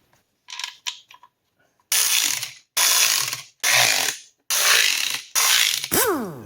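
A hand ratchet tightening bolts on a 4.3 Vortec V6 engine during a rebuild, giving five loud, close bursts of rapid clicking with brief pauses between, after a few faint taps.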